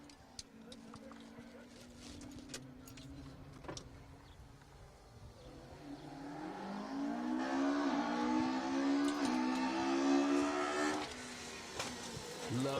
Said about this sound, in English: Love the sound of all the revs heading down the road towards me on the Manx Rally stage.